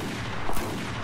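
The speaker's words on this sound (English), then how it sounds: "You have to shoot this light on top of the ship at a specific place" A single gunshot in Battlefield 4 on the Hainan Resort map, fired at a light on top of a ship, lands as a brief burst midway through a steady wash of game ambience.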